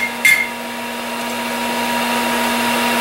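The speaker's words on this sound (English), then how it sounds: "take it to the grinder and kind of clean up these edges a little bit" An electric grinder whirs steadily after a brief clack at the start while cleaning up the edges of a spoon carving knife blank, running as a sustained hum without speech.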